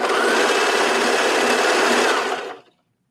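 A sewing machine stitching binding onto a knit tank top runs in one steady, loud, continuous whir for over two seconds, then winds down and stops.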